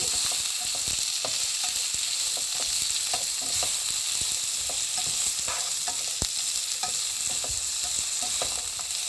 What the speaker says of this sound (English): in the same oil where you fry the shrimp, you just put your seasons so you get flavor